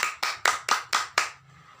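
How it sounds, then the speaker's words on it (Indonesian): Six crisp, evenly spaced claps ring out close by in a classroom as applause for a student, all in unison at a rhythmic beat, then stop abruptly. "Kita beri tepuk tangan"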